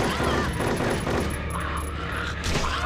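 Dense, sustained gunfire from a gun in the video game Silent Hill 3, a loud continuous rattle of rapid shots that fills the whole moment without pause.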